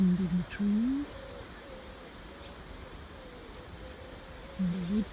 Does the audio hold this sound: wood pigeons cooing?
yes